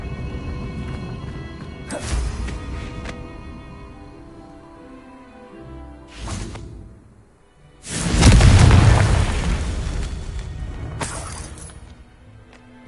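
A Confringo fire spell from Hogwarts Legacy bursts in a loud, close explosive boom with a rumbling tail, following a few smaller blasts and crashes amid game ambience.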